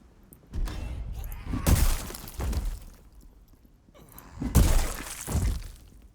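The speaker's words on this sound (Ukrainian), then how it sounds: "Бо зомбоїд розбив е, вікно." A zombie smashes a window in the Project Zomboid video game, with two loud, crashing bursts of breaking glass a few seconds apart and quieter rumbling between them.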